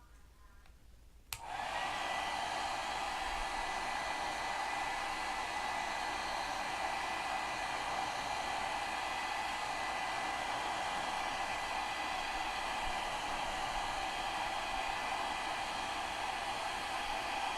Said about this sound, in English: let me get the blow dryer on it so it doesn't get ruined